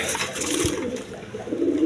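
A pair of Chuina pigeons give low cooing calls, two short murmuring bursts close by with a little background noise and no speech.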